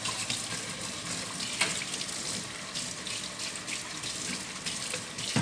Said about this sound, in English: I'm going to run some hot water and just scrub around here.